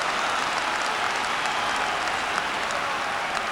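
Stadium crowd noise from a football video game, a Spurs versus Bayern Munich UEFA Cup match, swelling as a loud, steady roar of cheering and clapping after a shot strikes the post.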